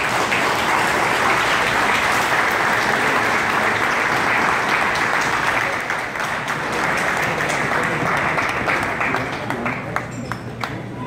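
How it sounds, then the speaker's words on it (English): Audience applause after a speech by Guyana's opposition leader at an indoor gathering, a loud, dense round of clapping that holds steady for around eleven seconds and thins slightly toward the end. "Let's have a nice round of applause for President Bharrat."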